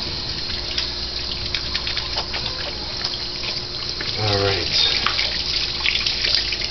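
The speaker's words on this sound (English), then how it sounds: "let me just wash my hands up a bit" Tap water runs steadily as hands are washed at a sink, a continuous splashing wash with a brief, brighter gush partway through while someone speaks over it.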